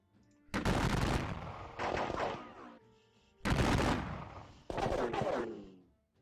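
Video-game gunfire in a Gettysburg campaign battle at Little Round Top comes as two pairs of long, loud, rolling musket volleys, each a dense crackling roar of about a second, separated by short pauses.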